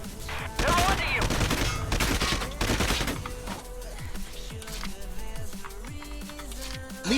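Gunfire in the video game Valkyria Chronicles 4, a loud dense burst of rapid shots in the first few seconds that gives way to lighter clicks and tonal game effects.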